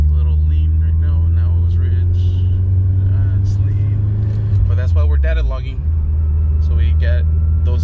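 A Honda Civic Si fitted with a replacement motor drives along, its engine droning loudly and steadily from inside the cabin and dipping briefly near the end, while someone talks over it.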